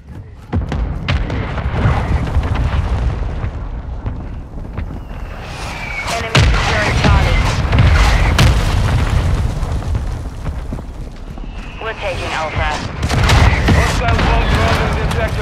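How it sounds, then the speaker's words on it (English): Mortar strike explosions hit during a Call of Duty Modern Warfare match, with repeated heavy booms and thuds in close succession, loud and near, mixed with in-game radio voices and battlefield noise. "Hostiles launched a mortar strike."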